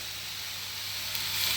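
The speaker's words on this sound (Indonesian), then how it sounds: "udah menggoreng normal ini, kecoklatan jadinya, tidak kehitaman yang pertama tadi" Chicken skin frying in oil in a wok, a steady broadband sizzle with soft hiss that swells slightly toward the end, close by and continuous with no talking.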